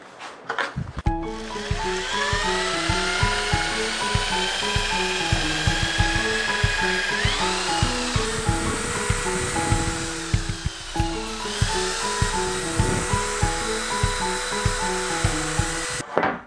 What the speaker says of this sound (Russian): наверное, для начала приступлю к его зачистке